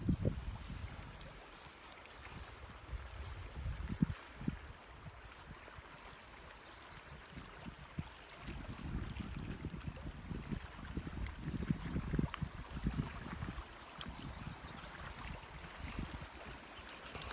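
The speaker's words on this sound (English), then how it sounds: "I hope you were able to hear the waves there. It's very nice sort of shoreline" Waves wash along a shoreline, a low rolling surge of water that swells and recedes with wind rustling over the microphone, steady and moderately close.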